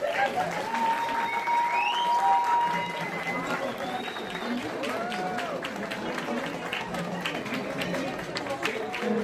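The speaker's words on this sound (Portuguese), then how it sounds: "Mais palmas, mais palmas, mais palmas, muitas palmas" Crowd applause at a poetry declamation event, continuous clapping under cheering and chatter, with a voice rising and falling over the noise.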